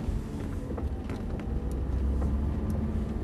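Car accelerating on the Dreux race track during a driving course, a steady loud engine drone from inside the car with a few faint knocks, no clear voices.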